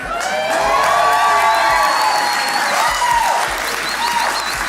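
A large crowd applauds and cheers loudly and without a break, with whoops and shouts rising above dense clapping.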